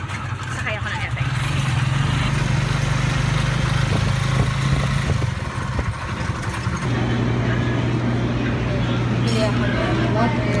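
Ride in a motorized tricycle on city streets in Makati, with a loud, steady engine drone that shifts pitch as it runs, rumbling close underneath while someone talks over it.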